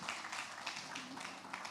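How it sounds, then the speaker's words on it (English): Applause at a corporate awards summit, a steady, dense wash of clapping from the audience that holds an even, fairly loud level throughout. "A round of applause for him"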